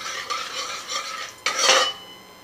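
A spatula scraping and stirring dried red chillies and bay leaf in hot mustard oil in a pan, a close rasping stir over a soft sizzle, with two louder sweeping strokes and no voices.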